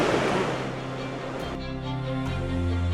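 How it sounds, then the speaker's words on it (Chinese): Ocean surf surges against a rock cave on the remote southern Oregon coast, a broad rushing wash that eases into a low steady rumble with a faint tonal hum. "你听到那个海浪拍打在岩洞上面的声音"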